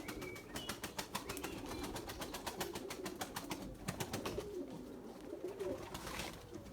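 Pigeons coo softly inside a loft, repeated throaty coos in an irregular rhythm, with faint rustling and movement in the background; the sound is fairly quiet and close.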